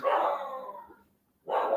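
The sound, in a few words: dogs barking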